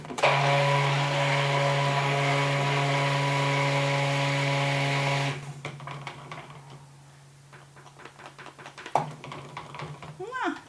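An electric blender whizzes a thick soap batter with a loud, steady motor whine for about five seconds, then cuts out. Scraping, tapping and handling noises follow with a brief voice.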